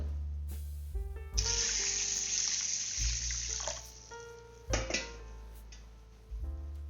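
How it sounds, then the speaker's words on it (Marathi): Tap water is poured into a bowl of rinsed, soaked mung beans in a home kitchen, in several close splashing bursts with short pauses between them. "आता याच्यामध्ये पाणी टाकून घ्यायचं आहे"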